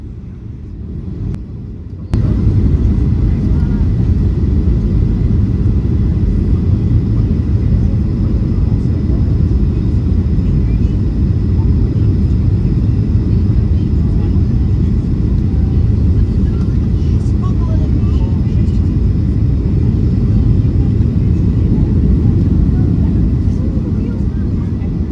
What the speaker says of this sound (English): We were slowly descending down before making an approach into Melbourne's Tullamarine Airport.